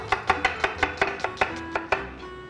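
A large onion being chopped into sticks on a cutting board, about a dozen crisp, evenly spaced knife strikes close up, slowing slightly toward the end, with no talking.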